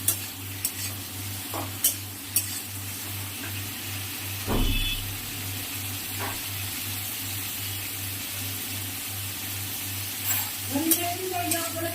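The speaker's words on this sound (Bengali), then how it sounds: "আমি কুমড়ো শাকের ডাঁটাটা 5 ফোড়ন আলু দিয়ে আর 5 ফোড়ন দিয়ে কুমড়ো শাকের ডাঁটা আলু দিয়ে বসিয়ে দিয়েছি" Pumpkin greens stalks and potatoes frying with five-spice in a pan, a steady low sizzle with occasional stirring clicks and a faint pulsing hum underneath.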